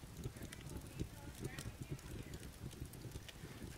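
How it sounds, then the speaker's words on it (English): A campfire burns in the survival game Rust, its flames popping and crackling in quick irregular bursts under a low wind-like rumble, fairly quiet and close. "You hear the flames popping, you hear the wood falling and burning."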